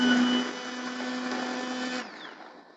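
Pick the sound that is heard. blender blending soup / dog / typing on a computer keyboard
blender blending soup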